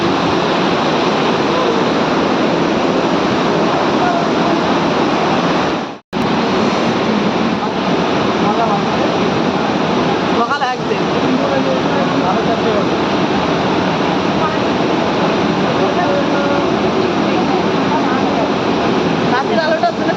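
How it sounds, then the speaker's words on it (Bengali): At a waterfall beside a bus stop at 4:30 in the morning, water rushes forcefully in a loud, steady roar that fills the whole stretch, briefly cut out once early on and then continuing unbroken. "এই যে ঝর্ণার জল প্রবল বেগে বইছে।"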